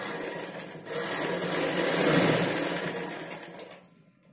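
A sewing machine stitching the front part of a blouse, running in one continuous fast whirring burst at close range that slows and cuts off near the end, with no talking.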